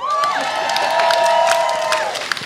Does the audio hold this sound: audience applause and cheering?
yes